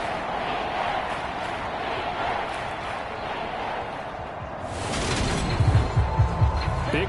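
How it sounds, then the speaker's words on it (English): Stadium crowd noise in the Madden 23 football video game, a dense continuous roar that swells louder near the end with a few low thumping beats. "That just means this crowd's going to get even louder."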